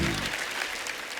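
Applause from the studio audience of a televised Hindi comedy talk show, a dense burst of clapping that starts loud and stays steady for about a second.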